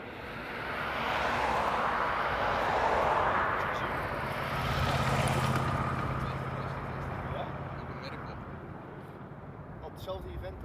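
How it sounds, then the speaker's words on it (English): A United Boeing 787-10 Dreamliner airliner takes off from a distant runway, its broad jet engine roar swelling and holding steady before slowly fading, with people talking over it throughout. "Well, there it is. United 787-10."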